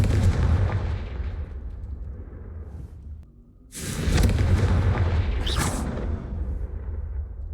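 Confringo fire spell blasts in the Hogwarts Legacy video game: loud booming bursts over a rumbling game backdrop, with a brief lull before two more sharp explosive hits.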